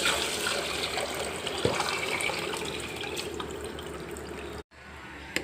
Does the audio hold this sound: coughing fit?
no